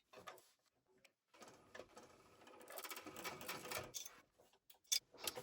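Sewing machine top stitching along the top edge of a small fabric wallet, a close, steady rapid mechanical whirr with brief pauses and stops.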